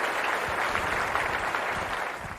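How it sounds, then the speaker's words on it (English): Steady crowd applause, dense and continuous at moderate loudness, with no break from start to finish. "Applause for the VIP."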